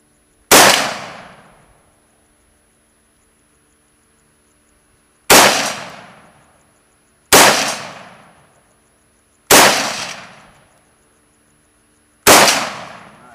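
Tavor rifle fired outdoors: five loud, sharp single shots spaced a few seconds apart, each with a short decaying ring, with no talking between them.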